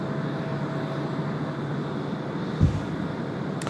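A departing airliner, an Airbus A350 bound for Sapporo, roars steadily on the runway at Tokyo Haneda, a broad continuous jet rumble with a brief thump partway through.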